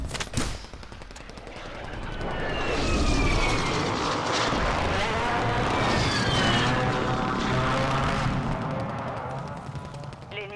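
In the Call of Duty video game, a tactical-airdrop aircraft roars past with a swelling, sweeping engine drone. Dense game gunfire and explosions run underneath it for about ten seconds.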